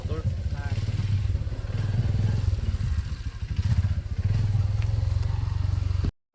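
A motorcycle engine runs loud and close for several seconds in a rural farm setting, with steady rumbling revs and some clatter, while people talk over it.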